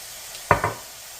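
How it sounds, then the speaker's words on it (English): Flour stirred into a sizzling Swedish meatball gravy base in a pan: a low background sizzle broken by two quick, close scraping stir strokes in a row. "sprinkle over all of that 1/4 cup of flour and stir it in just to coat everything nicely"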